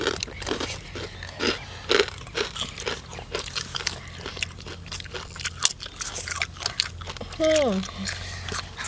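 Spicy Thai snail salad is crunched and chewed close up in repeated crisp bites, while people talk in between and over the chewing.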